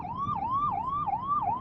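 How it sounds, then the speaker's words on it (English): An ambulance siren wails past a 2023 BMW XM during a drive, its tone rising and falling in a steady, repeating sweep, loud and clear over low road rumble. "There's an ambulance passing."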